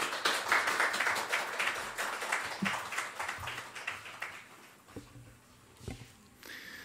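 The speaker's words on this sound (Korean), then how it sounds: "우리 박수로 정혜 목사님 맞이하도록 하겠습니다." A church congregation clapping to welcome a pastor, with dense applause that is fairly faint and distant and fades out toward the end, followed by a few scattered taps.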